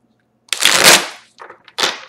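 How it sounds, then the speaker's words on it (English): A deck of tarot cards is shuffled close up in bursts: a long riffling rush, a brief softer flutter, then another quick riffle, with silence between. "one more shuffle and then we'll get started"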